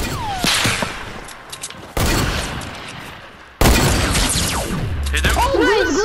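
Loud sniper rifle shots in Fortnite, two or three sharp cracks each followed by a ringing tail, under ongoing game sounds and voices chatting.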